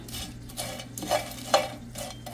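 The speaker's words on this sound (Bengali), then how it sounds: "চান্দার শুটকি কিন্তু দেখেন কিরকম করে ভেজে নিচ্ছি" Dried chanda fish shutki frying in a pan until crisp and nearly charred, with a soft sizzle under rhythmic spatula scrapes, fairly quiet and close, no talking.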